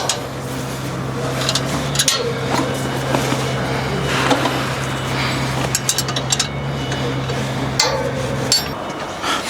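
A wrench loosens the oil drain bolt on an HY14C/HY16C machine during an oil change, with repeated metallic clanks and knocks over a steady low engine hum.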